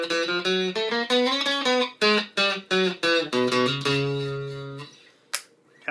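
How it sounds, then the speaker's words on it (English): Heavily distorted electric guitar through a single-coil pickup on a custom Jem-style guitar, playing a short riff of chords and notes, loud and close, ending on a sustained chord that cuts off abruptly. "Here's how the full distortion sounds through the single coil."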